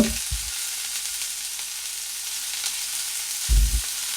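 Onion fries in a pan over a low to medium gas flame for masala khichdi, a steady close sizzle with a couple of soft low thumps from stirring.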